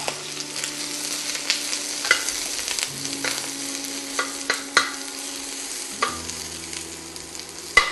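Bitter melon stir-fries in a hot wok, a close crackling sizzle punctuated by repeated sharp spatula clanks and tosses at an irregular rhythm, with no one speaking.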